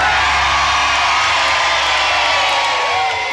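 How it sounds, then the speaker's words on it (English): A gathered crowd cheers and whoops loudly and steadily after firefighters put out a roof fire, a dense wall of excited voices fading slightly at the end. "They quickly put out the fire to the cheer of the crowd that had gathered."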